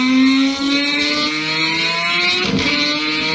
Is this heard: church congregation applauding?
no